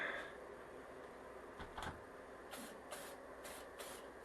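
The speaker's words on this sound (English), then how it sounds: "Been quite a while since I've sprayed anything." Spray paint hisses onto a bandsaw box in four short, close bursts after a quiet stretch with a couple of faint knocks.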